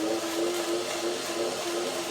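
A blender whirs steadily, blending a creamy sunflower seed dressing made with a little water; the motor hum is continuous and fairly loud, with no talking.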